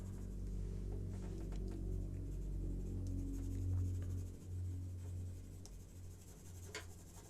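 Pencil shading on paper with the flat of the pencil while drawing Captain Jack Sparrow, a continuous soft scratchy rubbing under a low steady hum.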